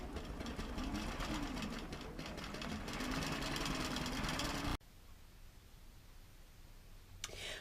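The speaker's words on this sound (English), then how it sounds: "it's going to take off sewing again" A computer-guided QCT4 quilting machine stitches a repair pattern with a steady fast mechanical whir that cuts off abruptly partway through. After that only a low hum remains, broken by a brief click.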